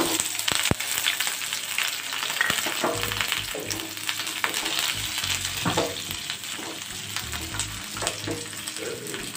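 Sliced onion, fennel seeds, ginger, cashews, cloves and bay leaf frying in a pan, a continuous sizzle with occasional stirring scrapes, close and steady, without speech.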